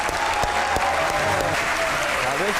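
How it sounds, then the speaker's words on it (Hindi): A studio audience at a Pakistani cricket talk show breaks into steady, loud applause welcoming two cricket guests, with a faint voice and some tonal sounds running under the clapping. "आपकी भरपूर तालियों में"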